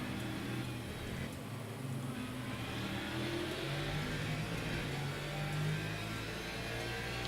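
A Lexus race car engine in a racing video game at the Fuji circuit drones steadily at high revs, a loud sustained growl with slight pitch shifts as it runs through gears.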